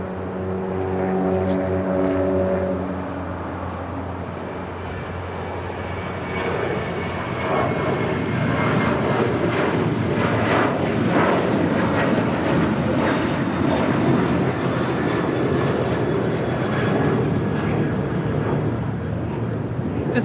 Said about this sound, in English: Emirates now rolling down 24 left.